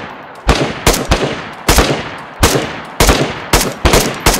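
Gunfire in the video game DayZ: loud, sharp shots come in irregular bursts and single cracks, about a dozen over four seconds, close and alone with no talk.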